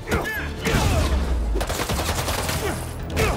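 Gunfire aimed at Spider-Man in Marvel's Spider-Man 2 on PS5, rapid dense shots and bursts mixed with game action, steady and loud, with someone talking over it.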